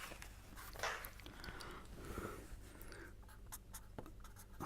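Pen or chalk writing during a statistics lecture on UMP tests: quiet, faint scratching strokes in short bursts over a low background hum, with no talk.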